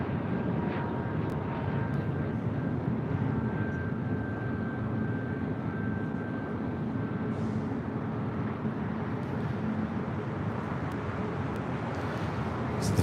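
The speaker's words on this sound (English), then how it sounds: "The Philippine 777 making that right-hand turn onto Lima." A Philippine Boeing 777 heavy jet turns onto a taxiway at Los Angeles International Airport, its engines giving a steady, continuous roar with a faint whine that holds at the same level throughout, with no talk.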